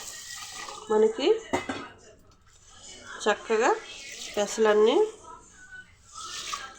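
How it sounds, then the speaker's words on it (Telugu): Water is poured into a bowl of green moong to soak it for dosa batter, a soft splashing trickle heard in short bursts beneath a woman's close, steady narration. "ఇప్పుడు నేను వీటిని వాటర్ పోసి నానబెడతాను ఫ్రెండ్స్."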